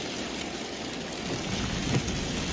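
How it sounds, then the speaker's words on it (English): Rain falling steadily outside, a dense even hiss that stays loud throughout, with a faint low rumble near the end and no voices. "It's raining."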